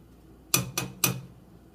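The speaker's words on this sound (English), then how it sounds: "Just stirring a bit" Rose petal syrup stirred in a metal pot, heard as three sharp, close knocks of a spoon against the pot in quick succession over a quiet background, with no talking.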